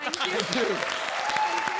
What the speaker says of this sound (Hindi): तो उस बात पर जोरदार तालियां हो जाए